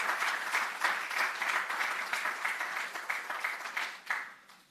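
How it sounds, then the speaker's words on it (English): Hall audience at a data-protection training awards ceremony claps warmly as a presenter is welcomed, the applause fairly close and steady before tapering off quickly at the end. "So please, give him a round of applause as he comes to give you an overview of the project."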